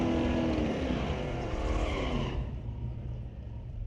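Drag racing cars in the burnout box at an NHRA Northwest National Open Series event at Mission Raceway, a loud roaring engine and tire noise that cuts off abruptly, leaving a lower rumble.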